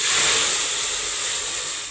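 Hot water poured into sizzling cumin tempering oil sets off a loud, continuous steamy hiss that holds steady for about two seconds and then fades slightly.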